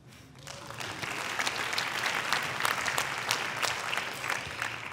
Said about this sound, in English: And a round of applause for yourself.